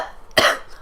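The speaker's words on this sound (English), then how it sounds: "I do have a cough, so I shouldn't do that." A single short, harsh cough from a sick adult indoors, close to the microphone, bursting out of near silence and fading within half a second.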